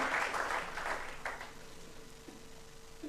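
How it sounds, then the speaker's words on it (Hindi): Audience applause at a scholar award ceremony, a broad burst of clapping that swells in the first second and a half, then thins to scattered claps and fades. "बहुत जोर तालियों से इन लोगों को जो है धन्यवाद देना"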